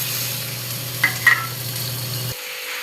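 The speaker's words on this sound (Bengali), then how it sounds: "এই তেলে দিয়ে দেবো আমি পেঁয়াজ কুচো, 5টা লঙ্কা চিড়ে রাখা আর একটুখানি টমেটো।" Chopped onion, split green chillies and a little tomato fry in hot oil with a steady close sizzle and a couple of brief stirring knocks, then the sizzle drops sharply near the end.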